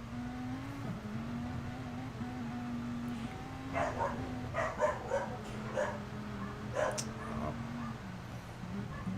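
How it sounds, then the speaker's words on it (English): A dog barks off in the distance in a few short clusters over a steady engine drone from a racing game at the Spa circuit. "Dog's barking."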